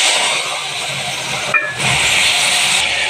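Spice paste dropped into hot mustard-style cooking oil already tempered with black cumin and fenugreek seeds for a fish curry, giving a loud, steady sizzling hiss that dips briefly midway and then carries on.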